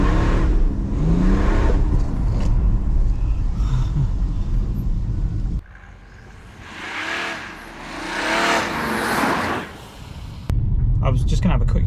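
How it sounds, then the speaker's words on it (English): A remapped BMW 430d, rear-wheel drive, launches on a wet road with a loud engine roar and revving, a quieter stretch of rising and falling engine drone, then a sudden loud return; a voice talks over parts of it. "Set the camera up in a different angle, and we're going to try and launch it again."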